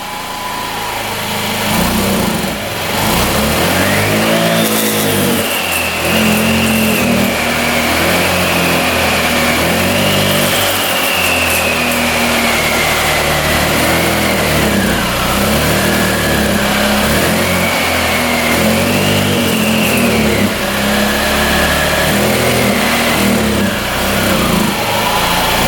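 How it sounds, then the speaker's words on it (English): Small scooter engine with a light, buzzy tone idles and revs repeatedly, pitch rising and falling in uneven surges; the engine does not rev out cleanly and runs loud and close throughout. "You're staying idling, but it doesn't rev out the greatest."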